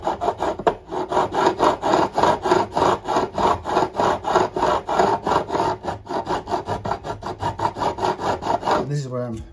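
Steady rhythmic rasping of a file beveling the fret ends on a Washburn acoustic guitar being refretted, about two strokes per second, close and loud, continuing alone before stopping near the end.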